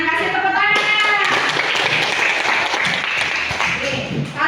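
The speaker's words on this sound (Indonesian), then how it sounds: "Kasih tepuk tangan." Classroom applause from students in a lesson, brisk close clapping that runs for about four seconds, with a voice speaking briefly at the start.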